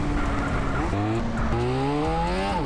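A motorcycle, a BMW K 1600, skids and spins out in GTA San Andreas, its tires squealing in rising and falling pitched sweeps over a steady engine drone, loud and close with no talking.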